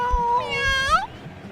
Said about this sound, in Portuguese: Não sei se tem um som de gato aí ou não.